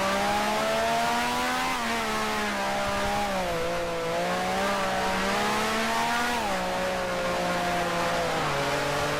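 A 1965-era Grand Prix race car engine in Grand Prix Legends drones loud and close, its pitch swaying up and down as the throttle is constantly feathered, with no voices.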